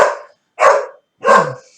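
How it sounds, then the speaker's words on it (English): A puppy barks three times in quick succession, each yap short and close, with brief pauses between them. "That's the puppy."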